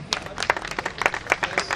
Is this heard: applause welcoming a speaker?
yes